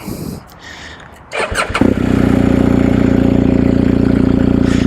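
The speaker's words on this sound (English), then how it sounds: "let's get the motorcycle started" A motorcycle engine cranks and fires up, then settles into a loud, steady idle close by.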